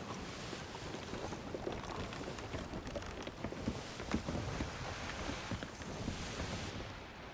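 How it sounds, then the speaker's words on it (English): A sailing ship in Sea of Thieves cuts through open water, giving a continuous dense rush of hull wash, waves and wind with no break or distinct event, no talking. "it's just the sound that the boat makes"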